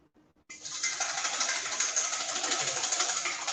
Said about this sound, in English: I've got 3 egg whites just in a bowl, and I'm going to whisk them